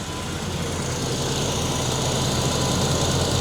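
A 1987 Chevrolet Monte Carlo SS with a 305 V8 idles steadily at low RPM, a continuous, fairly loud, even rumble with no speech.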